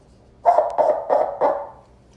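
A roaring cup experiment, with a wet string pulled through a cup to make a loud, bark-like rasping roar in four short, close bursts.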